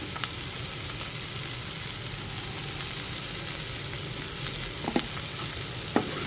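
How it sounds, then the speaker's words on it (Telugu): A curry seasoned with a ground cumin mix and dried coconut powder sizzles and fries in a pan as it is stirred, a steady crackle with a few sharper spatula scrapes, no voices. "ఇప్పుడు కలిపి తిప్పేసుకోవాలి. బాగా కలిపేసుకోవడం, కలిసేటట్టుగా."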